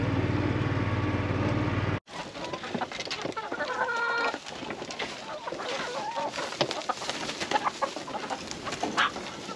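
Chickens cluck and squawk in a busy, overlapping jumble, fairly close, after a brief noisy opening that cuts off abruptly.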